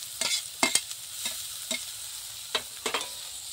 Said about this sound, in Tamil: லைட்டா பச்சை வாசனை போற வரைக்கும் மட்டும் வதக்கிக்கலாம்.